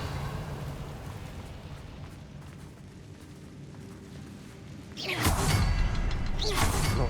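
Quiet game ambience, then the Revelio spell from Hogwarts Legacy fires as a sudden loud whooshing burst with a rumbling swell, followed by a second surge moments later.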